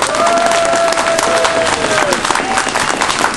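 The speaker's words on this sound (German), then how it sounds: "begrüßt mit einem donnernden Applaus und Jubelgeschrei die noch amtierende Pfefferkuchenprinzessin Celine die Erste" A crowd at the crowning of the Pulsnitz gingerbread princess gives thunderous applause and cheering, dense clapping with a sustained whistle-like tone rising over it, loud and unbroken.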